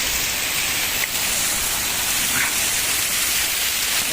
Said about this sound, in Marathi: या ठिकाणी भरपूर पाऊस, नुसता पाऊस पाऊस, सगळीकडे पाऊसच पाऊस.